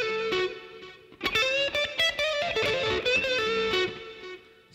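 At full speed, the lick comes off a slightly distorted electric guitar: one held note, then a quick run of picked notes and bends, played solo and close with no voices.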